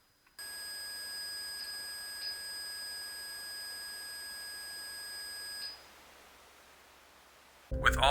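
REM pod alarms at a funeral home, a steady high electronic tone with brief beeps layered on top, sounding continuously for several seconds and then cutting off, followed by a sudden loud thump.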